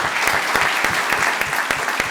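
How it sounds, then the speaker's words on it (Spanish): A lively round of audience applause at a panel event, dense and steady claps from many hands filling the room, close and continuous throughout. "Denme un aplauso."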